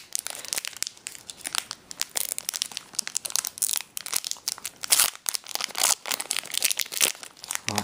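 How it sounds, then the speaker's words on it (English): A 2012 Core Set Magic: The Gathering booster pack wrapper is crinkled and torn open up close, giving loud, irregular bursts of crackling foil plastic with brief pauses between. "Well, that pack opened quite nicely."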